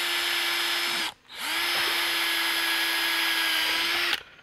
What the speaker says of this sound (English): to drill these last two holes